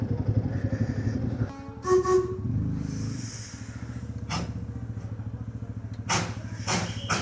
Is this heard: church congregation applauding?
no